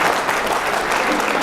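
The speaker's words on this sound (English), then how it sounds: "Let's give a round of applause for doing something for justice." A crowd at a secular government rally applauds continuously, a dense, even wash of clapping from many hands, fairly loud throughout.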